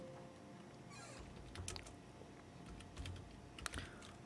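Computer keyboard keys are tapped in short irregular bursts as text is typed into a new file, fairly faint and close, with no talk.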